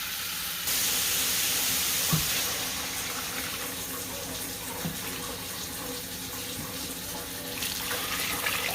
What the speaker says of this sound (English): I just added 8 cups of water, hot water that I heated up